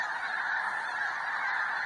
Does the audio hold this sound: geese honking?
yes